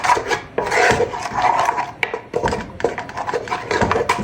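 Dry salt, nut cube seasoning and dry Cameroon pepper are rubbed and mixed together by hand, giving close, continuous gritty scraping and rasping strokes with no talk.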